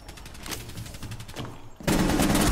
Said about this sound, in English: Oh, Shabby, we're shooting each other.